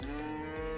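Cow mooing in the farming game Story of Seasons: Friends of Mineral Town, a single sustained low, tonal moo heard close and clear with no talking.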